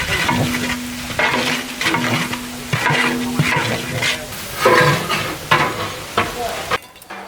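Ginger and garlic sautéing at large scale, two kilos each, over onions in a big pot for Seeraga Samba mutton biryani: a steady loud sizzle broken by repeated scraping stirs and clanks of a ladle, ending abruptly.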